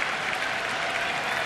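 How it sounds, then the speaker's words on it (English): A baseball stadium crowd at a Phillies at Nationals game in Washington murmurs and claps as a 3-2 pitch nears, a dense, steady roar of many people with no single voice standing out. "Crowd anticipating something here."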